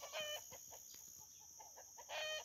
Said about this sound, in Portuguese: Tô ouvindo aí a galinha choca ali